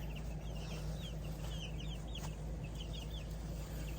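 Jumbo Cornish cross chickens cluck and chirp steadily in a continuous, busy chorus of short calls over a low constant background hum, the birds sounding moderately close.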